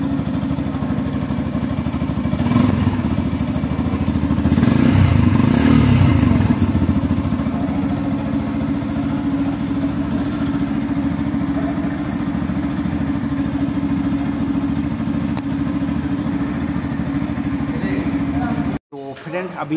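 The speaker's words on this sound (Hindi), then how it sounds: "इस बाइक का चलो सुनाते आपको आवाज़ भी" A 2021 Yamaha FZX 150 motorcycle engine idles with a steady low putter, swelling briefly in a couple of revs before settling, close by and loud, then cutting off abruptly.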